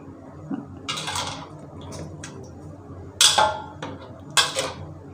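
Shrimp paste (kapi) stir-fried in a pan, with sharp metallic scrapes and clinks of a spatula against the pan in irregular bursts over a low background sizzle.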